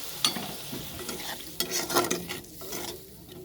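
Water poured in small amount into a hot cooking pan bursts into a loud, crackling sizzle, with sharp spits over a steady hiss that fades toward the end; no one speaks.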